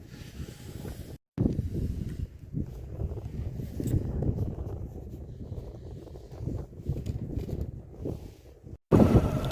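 Wind blowing outdoors on a cold, foggy morning, heard as a steady low rushing and buffeting against the microphone, moderately loud and continuous, with two brief dropouts and no talking.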